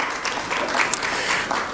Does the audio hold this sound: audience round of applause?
yes